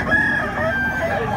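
A young rooster (stag) crows at a poultry market in Tabunok. The crow is brief and fairly loud, set against a background of market noise.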